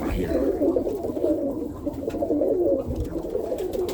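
Roller pigeons coo steadily at close range, a dense overlapping murmur of several birds in a loft with faint background noise and no clear talk.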